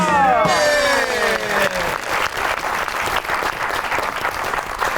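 A studio audience breaks into sustained applause for a guest introduction on a Pakistani comedy show, the clapping loud and continuous with a trail of music fading out at the start.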